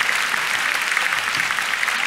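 Sustained applause from a concert hall audience at a jury concert during the New Wave 2005 festival, dense and steady throughout with no voices standing out.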